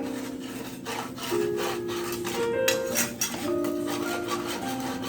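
A spoon scrapes the bottom of a pan while sausage gravy with bacon bits is made, a steady, close, rasping rub over a background hum, with no voices.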